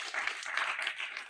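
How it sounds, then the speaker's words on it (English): An audience at a morning session for international students claps briefly, a light, quick spread of hand claps at moderate volume with no talk over it. "you can clap for that."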